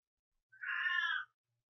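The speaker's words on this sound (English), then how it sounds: "we have a special guest star in the background, my cat Boots" A domestic cat meows once in the background, a single faint drawn-out cry of under a second, alone in an otherwise quiet room.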